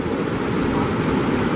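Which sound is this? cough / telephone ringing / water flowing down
water flowing down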